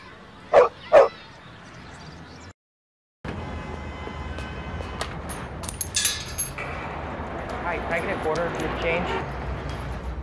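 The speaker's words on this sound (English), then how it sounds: "Look at the cute dog." A dog gives two sharp, close barks at the start, then a noisy stretch with clattering, jangling sounds and background activity.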